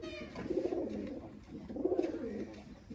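Pigeons coo inside a pigeon and chicken house, two low rolling coo phrases close by, with faint background noise and no talk.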